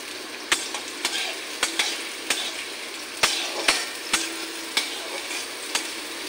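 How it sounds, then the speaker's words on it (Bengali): Chopped onions frying in hot oil in a home kitchen, a steady close-up sizzle broken by sharp, regular taps and scrapes of a spoon stirring the pan about once every half second. "পেঁয়াজ ভাজা"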